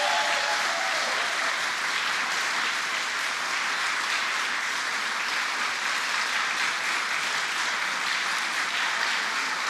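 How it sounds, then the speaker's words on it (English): Sustained applause from an audience at a state governor's announcement on lifting pandemic restrictions, dense and steady clapping filling the room throughout with no talk over it. "Give yourselves a round of applause."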